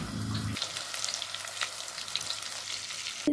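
Marinated chicken frying in a pan, a dense, continuous close sizzle with crackling texture throughout, briefly under a low tonal hum at the start.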